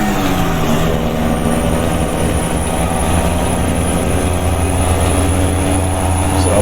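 Cummins N14 diesel engine in a truck-driving video game, a steady loud drone with rising harmonic whine and low rumble running throughout, no talk.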